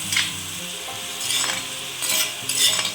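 Onions and chopped tomatoes fry in a pan for a Tamil dried-fish (karuvattu) gravy, with a steady sizzle and recurring bursts of stirring and scraping over about three seconds, close and fairly loud.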